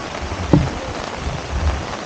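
Heavy rain pours steadily during a night of car camping, a dense, even hiss of drops close by with a single sharper knock near the start and no voices.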